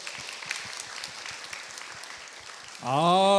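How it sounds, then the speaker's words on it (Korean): Audience applause at a trauma healing week talk event, light scattered clapping for a few seconds before a loud musical tone or jingle cuts in at the end. "박수 한번 보내주세요."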